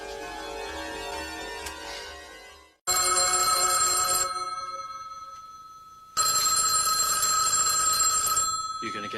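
A telephone rings loudly in two long electronic bursts, bright and insistent, with a brief gap between them.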